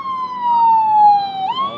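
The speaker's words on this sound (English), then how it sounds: "There go ambulance" Ambulance siren on a city street in Orlando, a loud single wailing tone that slowly drops in pitch as it passes, then jumps back up near the end.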